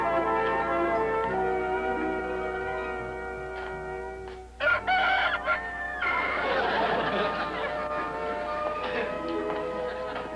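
A rooster crows amid a scene of the 1960s sitcom The Jean Arthur Show, the calls mixed with background music and chatter; one crow breaks through midway, followed by busy lively sound.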